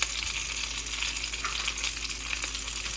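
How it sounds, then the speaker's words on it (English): Red snapper frying in hot oil with salt gives off a steady, dense sizzle with fine crackles and pops throughout, close and continuous, with no talking. "the hot oil and the salt makes it pop"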